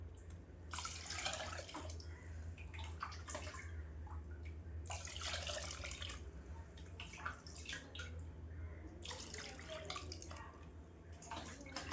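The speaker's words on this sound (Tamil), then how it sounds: "இதில் ஒரு பக்கெட்டு தண்ணி கூட சேர்த்துப்பேன்" Water from a bucket is poured and splashes into a tomato plant pot in several bursts of trickling and dripping, fairly close, over a steady low background hum, with no talk.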